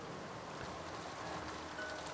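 Steady rain and wind ambience in the Umineko visual novel: an even, soft hiss of falling rain with a low gusty rumble underneath, constant and unbroken.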